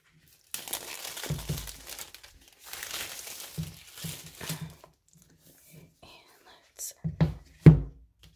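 Plastic packaging for an Apple Watch Series 5 crinkles and tears open in bursts of rustling with a few soft thuds, close and fairly quiet, with hushed speech around it.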